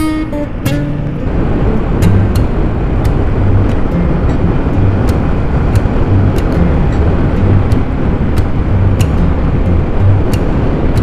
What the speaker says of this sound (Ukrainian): Але мотор звучить